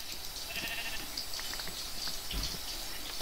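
Sheep in TerraFirmaCraft give soft bleats over a constant hissy ambient bed, with a few faint clicks and a low thump near the end, and no voices.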